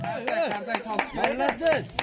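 Hands clapping in a handful of quick, close bursts at a Navruz holiday gathering, mixed with a child's and adults' voices talking and cheering over the claps.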